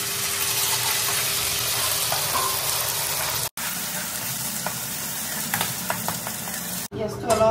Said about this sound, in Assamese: পিয়াজটো অলপমান ভাজি লম